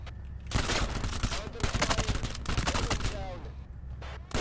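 Rapid automatic gunfire from the video game Thunder Tier One during a raid on a ship carrying illegal weapons, dense close bursts of shots in quick succession, loud and nearly continuous, ending with a final shot.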